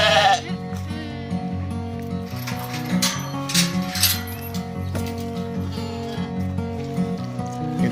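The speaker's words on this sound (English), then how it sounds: "We're gonna go ahead and let the sheep in." Sheep bleat repeatedly and loudly as they are let into a pen, a dense overlapping flock chorus that runs throughout, with some metallic clinks from the gate mixed in.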